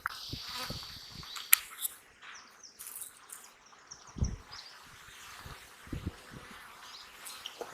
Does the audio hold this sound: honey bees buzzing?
yes